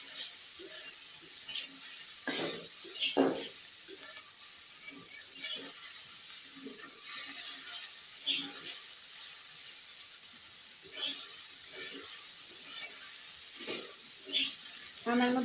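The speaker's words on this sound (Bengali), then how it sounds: "এখন শাক আর আলু ভালোভাবে মিশিয়ে নেব।" Dima greens and small potatoes frying in a pan while being stirred, with a soft, steady sizzle and intermittent scraping and clinking of the spatula against the pan, fairly quiet and close.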